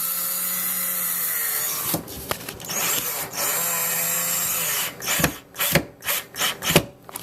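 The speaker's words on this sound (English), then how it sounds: "once you've got your drywall screw lined up, you just run a screw on in" A drill drives a drywall screw into a wall while a patch is fitted. Two sustained motor whines come up close, then a run of short, choppy bursts as the screw seats.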